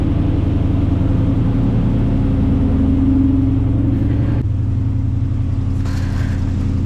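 A cold big-block 454 V8 in a Chevrolet C10 idles loud and close, a continuous deep rumble with an even throb that drops slightly in pitch partway through.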